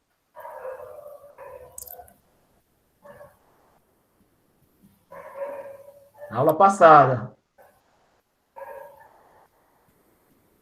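A dog barks in a short burst of sharp, loud yelps partway through a classroom maths lesson, set between stretches of a teacher talking.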